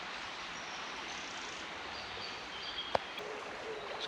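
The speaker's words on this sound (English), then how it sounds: "the noise of the river just flowing so calming" A steady, quiet wash of flowing river water hisses continuously, with a single sharp click partway through.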